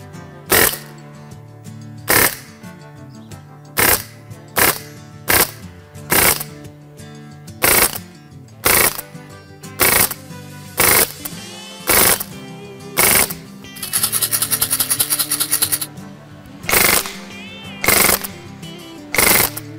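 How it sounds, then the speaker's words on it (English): Umarex Steel Storm CO2 BB gun firing in rapid bursts, a series of sharp repeated cracks in short volleys, with one longer sustained burst, loud and close with no talking. "Let's go ahead and see how many shots we get for two CO2 cartridges."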